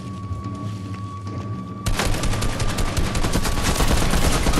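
Dense automatic gunfire in a Fortnite Vietnam War creative map, starting abruptly after a quieter stretch and continuing as loud, rapid overlapping bursts with heavy booms underneath, a steady tone running through the background.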